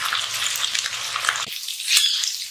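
Ginger, garlic and fenugreek paste fries in a pan, a bright crackling sizzle that cuts off sharply halfway, leaving a faint hiss with one brief scrape.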